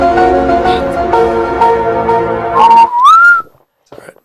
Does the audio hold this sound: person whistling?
yes